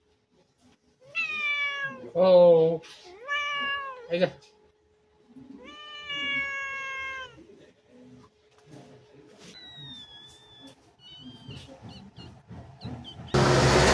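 A cat meows several times in clear, close harmonic calls during a trip with a steam locomotive nearby, followed by a quieter phase where a person speaks briefly and a loud noise bursts in at the end.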